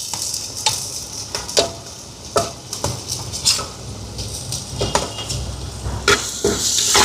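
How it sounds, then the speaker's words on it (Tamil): Tomatoes sauté in a clay pot over a wood stove, a continuous sizzle broken by repeated sharp stirring knocks and scrapes at an uneven rhythm, close and fairly loud, with no talk. "தக்காளி பழம் கொஞ்சம் வதங்கட்டுக்கும்."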